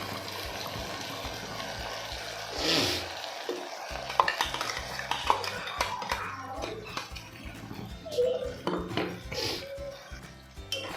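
Masala frying in a pan for a vegetable sagu, heard as a steady sizzle with scraping and clinking of a stirring spoon against the pan, mid-distance and continuous, with no talking.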